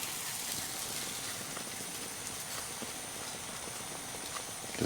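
Egg-soaked bourbon and brown sugar French toast sizzles steadily on a grill, a loud, constant frying hiss with scattered pops, close up.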